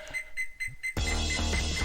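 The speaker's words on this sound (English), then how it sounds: "the beeping is not gonna go away until we see another one of those enemies" A video game alarm beeps in a quick repeating pattern of short tones, four evenly spaced beeps, before a louder burst of game sound takes over.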